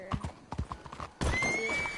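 Horse in the Red Dead video game clip-clops along with a few quick hoofbeats, then lets out a loud, bright whinny that fills the last second, close and alone.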